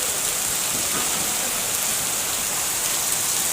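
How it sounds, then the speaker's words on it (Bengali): Heavy rain pours steadily onto surfaces outdoors, a dense, even, close wash of drumming drops with no pauses. "তো এই যে ক্রমশ বৃষ্টি বাড়তেছে"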